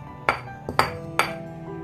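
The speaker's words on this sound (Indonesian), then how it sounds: "Terus saya ulekkan di sambalnya sini." A stone pestle thuds and grinds chili sambal with soaked anchovies in a stone mortar; four sharp knocking strikes, close and clear, with no speech.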